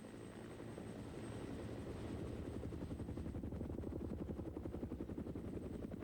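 A military transport helicopter after unloading supplies in Korea: loud, steady rotor whine and rapid blade chop grow more pronounced as it departs, with no voices.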